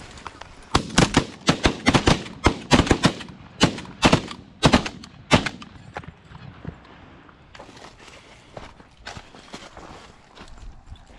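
Shotguns fire during an evening goose hunt in a loud rapid volley of around a dozen sharp blasts, followed after a pause by a few more scattered, fainter shots.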